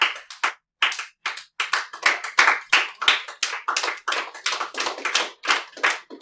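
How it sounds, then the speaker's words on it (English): A high school geometry class clapping in unison in a lively rhythmic pattern, with sharp, loud claps in quick patterned bursts and short pauses between them. "This is my best clapping class all day long."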